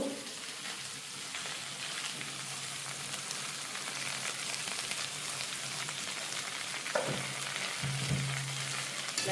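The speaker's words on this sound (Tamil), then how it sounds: "தக்காளி பழம் வதங்குது" Tomatoes sauté with fenugreek and salt in a pan, producing a constant hissing sizzle like light rain, with a couple of brief stirring scrapes near the end, close and fairly quiet, no voices.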